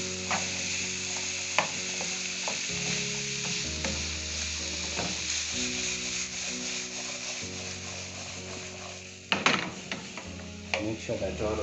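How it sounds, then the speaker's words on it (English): Vegetable fried rice ingredients stirred and scraped around a pan, a steady run of rubbing, clattering strokes over a low sizzle, close by and moderately loud, with a few sharper knocks near the end. "We mix all the ingredients together."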